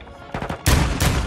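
Gunfire from a weapon in Call of Duty: a couple of quick lighter shots, then two heavy, loud blasts close together, each with a booming tail.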